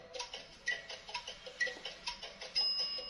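Barbie Dreamhouse toy oven timer ticking in a quick, steady electronic tick-tock, close and fairly quiet, ending in a brief tone as the alarm begins.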